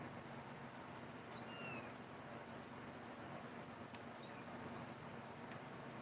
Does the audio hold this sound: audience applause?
no